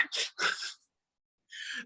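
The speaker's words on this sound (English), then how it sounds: "Just sneezed" A person sneezes twice in quick succession, close and fairly loud, then after a brief pause gives a short breathy sniff or gasp, with nothing else in the background.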